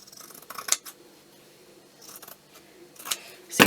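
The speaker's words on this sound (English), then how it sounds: "Let's cut a bit off this." Scissors snip through fabric scraps in a few quick, close crisp cuts with short pauses between, ending in a louder rustle of handled material.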